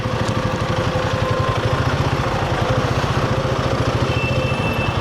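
Royal Enfield Himalayan 450 or Triumph Scrambler 400X motorcycle engine pulling steadily while riding, a loud continuous thrum with rhythmic low pulsing and wind rush, no voices.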